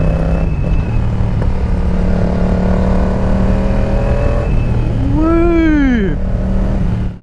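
A Yamaha 700 Tracer motorcycle engine, a 700 cc twin, runs at full throttle, loud and close, its pitch climbing steeply in a sharp rising sweep before easing off.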